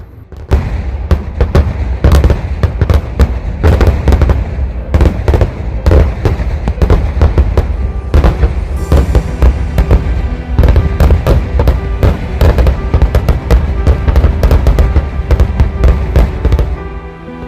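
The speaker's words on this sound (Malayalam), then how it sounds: "കഴനി ദേശത്തിൻ്റെ വെടിക്കെട്ടിൻ്റെ തുടക്കം മുതൽ തന്നെ ഞങ്ങൾ മുന്നിൽ സാക്ഷ്യം വഹിക്കാൻ നിരന്നു നിന്നിരിക്കുകയാണ്" Dense, continuous volleys of fireworks at a temple village festival in Kerala, a rapid barrage of loud cracks and booming blasts with no pause across the whole stretch.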